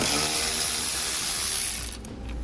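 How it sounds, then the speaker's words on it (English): A ratchet zips steadily while backing out two bolts on a 2018 Jeep JK Wrangler interior panel, a close, continuous mechanical clicking that slows and breaks into a few separate clicks near the end. "Remove the 2 bolts here."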